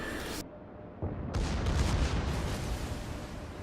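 Battleship Missouri firing high-explosive shells in World of Warships: a heavy broadside boom hits after a brief quiet, then a loud, sustained rumbling roar rolls on with no talking.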